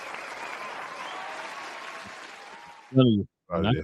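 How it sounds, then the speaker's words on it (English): Applause, likely from a soundboard during a basketball rant stream, with steady crowd clapping for about three seconds that fades, then someone briefly speaks. "Richard, you get the applause as well, man"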